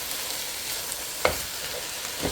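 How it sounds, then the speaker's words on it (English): Rice-recipe ingredients sizzle and fry in a pan with no tomato juice, a soft steady crackle with a couple of louder pops or stirring knocks. "This is only frying. Everything over here, it's frying."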